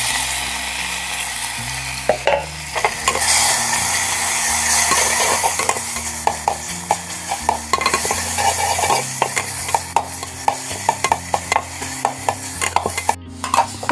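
Agave flower vegetable with garlic, onion, chili and salt sizzles steadily in a pan, with a spoon scraping and clinking against the metal in irregular taps, close up and without talk.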